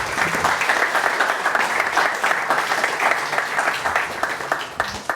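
A small audience at a startup pitch event breaks into steady, close applause after a pitch, a thick patter of clapping hands that holds evenly to the end.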